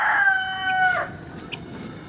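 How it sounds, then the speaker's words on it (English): A free-ranging rooster on a farm crows once at moderate distance, the call fading into faint outdoor background with a brief cluck after. "We have a couple of other roosters."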